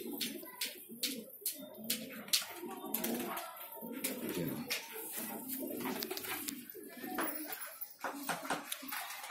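Pigeons cooing and fluttering inside a crowded loft of old-breed birds, a dense continuous murmur of coos with sharp wing flaps and scratches throughout, fairly close.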